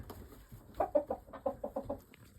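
A chicken gives a quick run of about eight clucks, close by, in a quiet setting.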